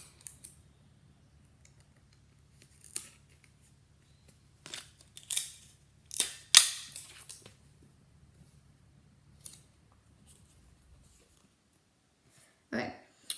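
Scissors snipping off excess material while making a DIY Wild Kratts costume, several sharp, separate cuts spaced out over a quiet background with a low hum.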